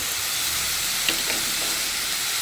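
Garlic and ginger paste frying in oil for a mutton curry gives a steady, close sizzle, with a few faint scrapes of stirring.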